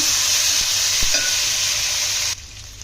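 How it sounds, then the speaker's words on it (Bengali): Ginger-garlic paste hisses loudly in hot oil, with a faint stir or two. It cuts off abruptly near the end, leaving quieter sizzling, and no one speaks. "দিয়ে দিচ্ছি আদা রসুনের পেস্ট, নেড়ে দিচ্ছি।"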